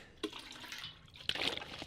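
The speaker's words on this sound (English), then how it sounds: "we'll take water from the toilet" Water is drawn from a toilet in The Long Dark, a faint, soft trickle and sloshing with a small splash at the start and a fuller watery gurgle later, quiet and without talk.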